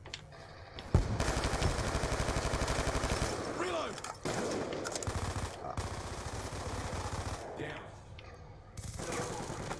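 Machine gun fire from the video game Call of Duty 2 rattles in long, loud rapid bursts separated by short pauses, with voices talking underneath.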